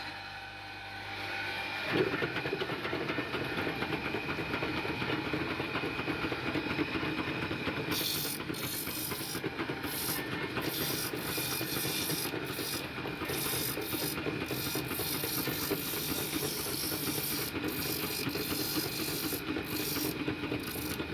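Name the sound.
bamboo skewer sharpening machines running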